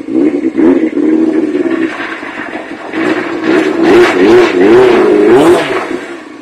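A 1998 Suzuki GSX-R 600 SRAD sport motorcycle engine revs up and down, rising and falling in pitch, loud and close, with sharper throttle blips toward the end.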